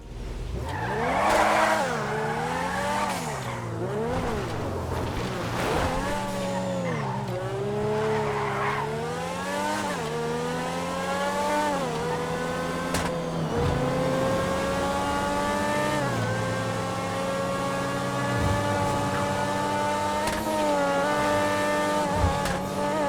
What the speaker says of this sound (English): That wailing, high revving, almost race car engine sound, I think it's absolutely superb.